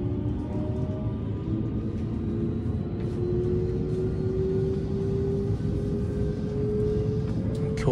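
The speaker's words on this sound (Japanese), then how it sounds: "列車2条を出発しているところです。" A local train pulls away from platform 2 on the Fukuchiyama to Kyoto line, a continuous low rumble of the running train with a rising motor whine, heard from on board with no talk.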